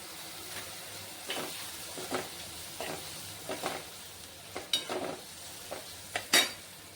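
Onions with half a spoon of turmeric sautéing in a pan for Maharashtrian potato-onion poha give off a low steady sizzle, with repeated scraping stirs and a few sharper clinks of the spoon against the pan.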